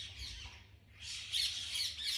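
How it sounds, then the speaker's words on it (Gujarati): A parrot squawks in harsh, grating calls outdoors in a village, fairly faint and at a distance, with no talking. "જુઓ પોપટ આવીને બેઠો ત્યાં સામે."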